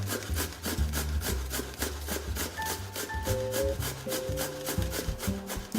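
Cold blanched potatoes rubbed against a grater into a bowl, a steady rhythmic rasping of repeated close strokes with no talk.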